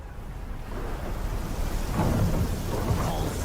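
Rain and thunder summoned by a spell in a video game, a steady rushing downpour with a low rolling rumble that swells midway, moderately loud and alone without talk.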